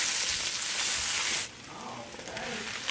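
Chopped onions frying in oil left from cooking chicken for pineapple fried rice, a loud close sizzle for about a second and a half, then a quieter, softer crackle as it settles.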